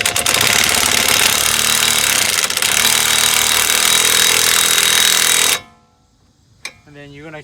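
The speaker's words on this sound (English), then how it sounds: "with that impact gun or a ratchet or whatever you want to use, start putting friction" An impact gun tightens bolts on a clutch in a loud, continuous hammering rattle for several seconds. It stops abruptly, followed by a brief voice.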